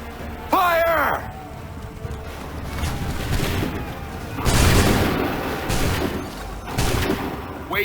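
Cannon volley fired on command in Assassin's Creed 3, heavy booming blasts rolling out in bursts after a sharp shouted order, with commanding voices calling out over the barrage.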